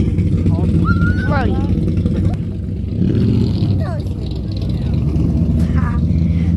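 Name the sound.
loud truck engine at a car show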